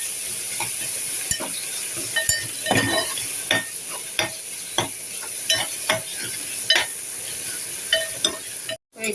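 Ginger garlic paste sautéing in a pan for a Maharashtrian surana bhaji, with a steady sizzle and frying crackle throughout, broken by repeated scraping strokes of a spoon stirring the paste.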